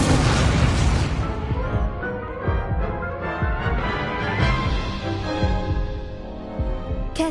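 The Incendio fire spell in a magic-school video game opens with a loud, sharp whooshing burst and settles into a steady roaring rumble for several seconds, ending with a brief crackle.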